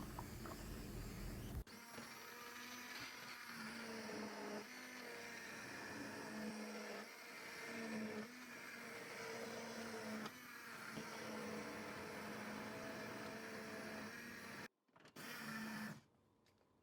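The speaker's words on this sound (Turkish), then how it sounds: "Blenderla pürüzsüz hale gelene kadar çekiyorum." A blender purees softened boiled potatoes into a smooth potato soup, giving a loud, steady whirring motor drone that runs almost continuously, with a brief cutoff and restart near the end.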